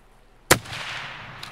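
A single sharp gunshot in Escape from Tarkov, a loud close crack followed by a rolling, fading echo, with a faint click near the end and no talking.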